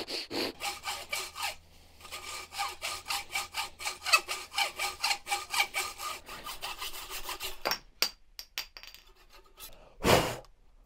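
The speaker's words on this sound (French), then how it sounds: "Il n'y a plus qu'à aller chercher la petite scie, l'insérer dans la petite fente" A small hand saw cuts a straight slot in wood, its rapid back-and-forth rasping strokes close and steady for about eight seconds, then a few scattered knocks and scrapes, with a final brief burst of sawing near the end.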